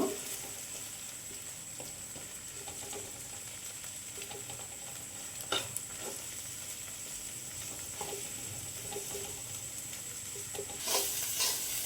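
Ingredients sizzle in a frying pan with a quiet, steady hiss while a spatula stirs and scrapes, adding scattered light clicks and taps, with a brief louder burst of sizzle toward the end.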